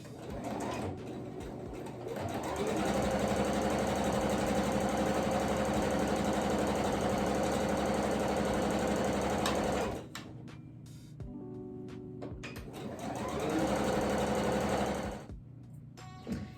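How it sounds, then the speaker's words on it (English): A sewing machine stitching two fabric scraps together for a crazy quilt runs in a fast, steady whir for several seconds, stops briefly, then starts again for another short burst. "you're just going to stick that together right inside your sewing machine"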